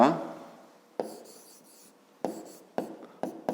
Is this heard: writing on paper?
yes